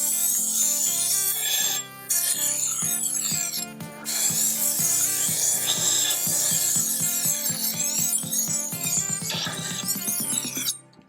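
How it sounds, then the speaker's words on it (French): A Tormek T1 sharpening machine grinds a knife blade drawn along its edge, giving a steady close rasping hum with repeated short scraping strokes and light metallic clinks, stopping briefly twice before a final run. "On allume la machine, on glisse la lame du côté argenté et on laisse aller la lame tout le long de son fil."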